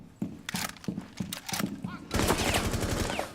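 Gunfire from a first-person shooter video game: a rapid series of sharp, punchy shots in a steady rhythm, followed by a denser burst of fire with clattering echoes, loud and close, with a voice talking over parts of it.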